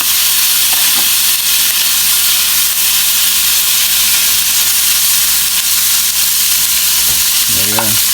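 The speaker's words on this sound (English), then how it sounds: "Listen to it sizzle." Loud, steady sizzling of rice-paper spring rolls frying in hot oil fills the clip with a constant crackling hiss, a brief clatter near the end.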